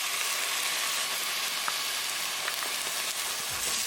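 Tomato puree sizzling in hot oil with fried onions in a pan for pork tenderloin curry, a steady close frying hiss throughout with a brief stir near the end.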